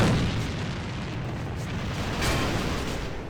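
An RPG rocket explosion in the online shooter AVA, heard as a broad, sustained rumbling roar with a couple of softer swells in the middle.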